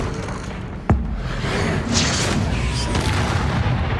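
A Confringo blasting spell goes off in Hogwarts Legacy as a single sharp, booming burst that rolls into a rumbling wash of combat noise and ambience, with no voices.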